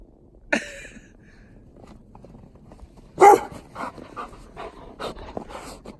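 A dog pants in quick, breathy bursts close by, with a sharp yelp near the start and a few soft thuds in a quiet, snowy outdoor setting.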